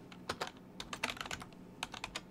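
Rapid, uneven typing on a computer keyboard, close up, with bursts of key clicks and short pauses.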